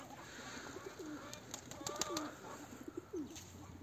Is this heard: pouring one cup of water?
no